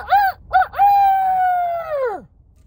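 A single loud, close rooster crow: two short opening notes, then a long sustained call that drops off at the end.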